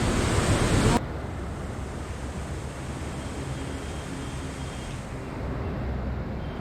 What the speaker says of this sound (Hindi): वाकई बहुत तेज़ धार है इस नदी की।